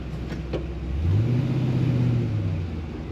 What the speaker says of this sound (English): Here it has a nice rumble as well.